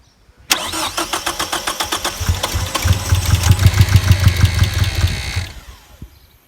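A 1989 Ford Probe GT engine cranks and fires, running in rough rhythmic pulses that build louder and heavier midway, then cuts off and falls quiet after about five seconds, close and alone.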